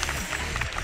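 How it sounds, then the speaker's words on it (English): An audience claps at the Tekken 7 grand final of Combo Breaker 2023, a dense, steady patter of applause from a crowd that fills the whole short moment. "those are some hearty claps"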